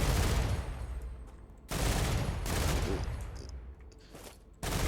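Weapon fire in the sci-fi game StarRupture, with bombs being shot: several loud, close bursts of firing separated by short decaying gaps, each onset sharp and heavy.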